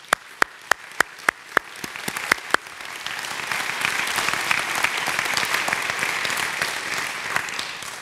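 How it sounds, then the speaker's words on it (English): Applause at a children's advocacy congress opens with a few sharp, isolated claps, then swells into loud, sustained clapping from a large audience that holds steady to the end. "Give yourselves a huge round of applause,"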